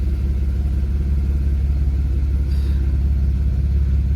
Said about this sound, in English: Got great turbo noises.